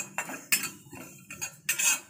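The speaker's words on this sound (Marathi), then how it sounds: "आता हे भाजून घेतलेले जिन्नस जे आहेत ते मी एका प्लेटमध्ये काढून घेते" Roasted whole spices such as coriander, cumin and fennel scraped from a pan onto a plate with a metal spoon, a few distinct clinks and scrapes spaced irregularly, close and clear with no talking.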